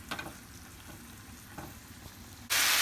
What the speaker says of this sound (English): You add your tofu, and it's gonna start sizzling.